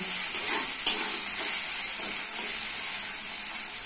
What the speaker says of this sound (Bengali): ভালো করে আদা রসুন বাটাটা ভাজবো